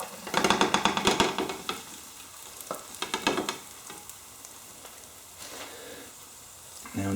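A Spanish potato omelette with chorizo slides back into a full frying pan, setting off a loud burst of sizzling that fades and flares again in shorter bursts before settling into a quieter steady hiss.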